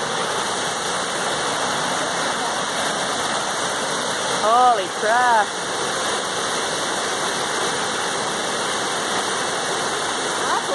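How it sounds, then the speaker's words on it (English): Waterfall at Fantum Falls, Nova Scotia, roaring as a steady broadband rush throughout, with a brief exclamation from a person partway through. "That's a waterfall."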